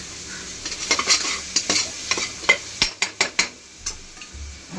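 Tomato with onion-coconut masala fries in a pan, a low sizzle under a run of quick scraping stirs that bunch together toward the end.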